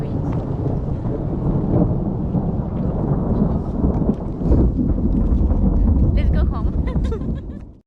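A thunderstorm in Portugal rumbles with deep, continuous low thunder and heavy rain noise, loud and close, with faint voices mixed underneath.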